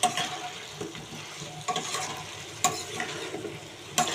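Fried lentil fritters get tossed with potatoes and spice paste in a pan: a soft continuous sizzle under a handful of sharp, close spatula scrapes spaced about a second apart, with no one speaking.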